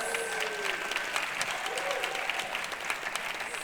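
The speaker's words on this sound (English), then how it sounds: "Can we get another round of applause for the Beverly Bike Bus?" Sustained applause from a community audience at a transportation event in Beverly, cheering the local bike bus; an even, dense roll of clapping at moderate level with some crowd murmur and voices underneath.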